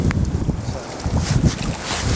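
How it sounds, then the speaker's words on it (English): Strong gusty wind buffets the microphone beside a Snowy Mountains river, a loud low rumble rising and falling in waves with faint water hiss behind it, no one speaking. "Excuse the wind, it's pretty windy here."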